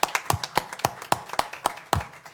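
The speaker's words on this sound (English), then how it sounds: "So please give yourself a round of applause" Several people clap at a county commissioners meeting, sparse uneven claps at a fairly close distance, a short quiet round of applause rather than a full ovation.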